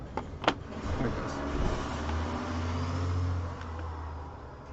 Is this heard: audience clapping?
no